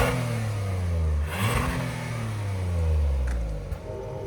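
A Kia EV9 or Telluride SUV driving past, heard from outside on its recommended tires: a steady engine and road hum that rises and falls in pitch as it goes by, with no talk.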